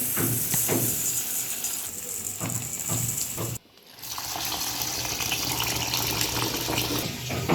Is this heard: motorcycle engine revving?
no